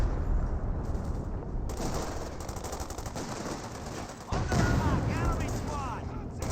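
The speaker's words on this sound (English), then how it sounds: "Fires a shot there into the heavy cover" Gunfire from Company of Heroes 2 in a dense, rapid crackle of small-arms and machine-gun bursts, with a louder burst of shots and booms near the end, a voice talking underneath.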